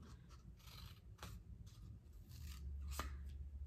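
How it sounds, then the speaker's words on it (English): Scissors snip through a cardboard toilet paper roll for an Earth Day sun-catcher craft, giving a run of short, close crisp cuts with rustling between snips, no voices. "So you would just take the toilet paper roll and just cut at the bottom."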